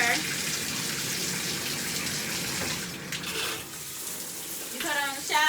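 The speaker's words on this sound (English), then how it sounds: "You cut on the shower." Shower water runs in a bathroom, a steady hiss and splatter with shifting spray as someone moves under it, while someone talks over the sound.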